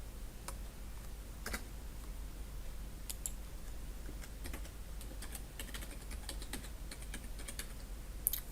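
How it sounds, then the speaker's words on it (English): Keys tapped on a computer keyboard while entering a password, a sparse run of light, irregular clicks spread over several seconds against a steady low room hum, with no talking. "I'm going to go ahead and type in my password."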